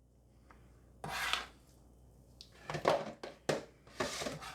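Knife slicing through ingredients on a board for Maggi air fryer shawarma, several separate rasping cuts and scrapes in short bursts, close and fairly quiet.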